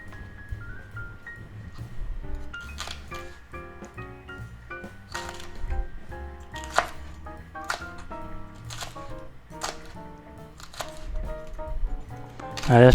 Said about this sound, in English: Just kind of make strips out of it, and then you can turn them sideways and just chop them up good.